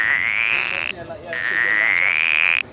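A man mimics a frog's croak with his voice, producing two long, loud, steady buzzing calls, close and dry, separated by a short pause.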